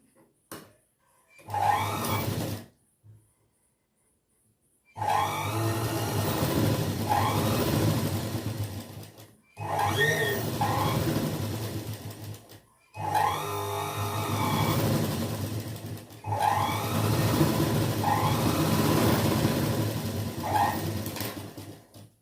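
A sewing machine stitching a heavy-chest blouse runs in four bursts of steady whirring motor hum with rapid needle clatter, separated by short pauses, close and fairly loud.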